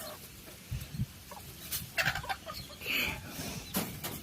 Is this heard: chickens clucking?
yes